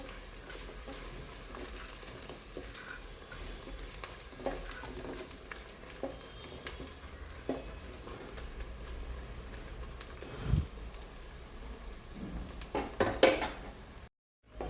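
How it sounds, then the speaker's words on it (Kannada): Onions, ginger and green chilies frying in a pan for a fish curry, with a steady low sizzle and occasional stirring scrapes throughout, no talking. "ಇದು ಕೂಡ ಈರುಳ್ಳಿ ಜೊತೆ ಇವಾಗ ಫ್ರೈ ಆಗಬೇಕು"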